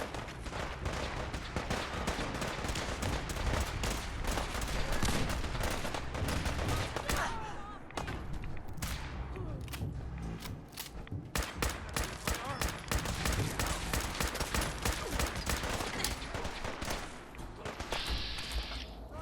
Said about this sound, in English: Would be nice if this was an automatic combat rifle.